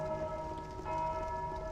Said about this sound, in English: I rang the bells.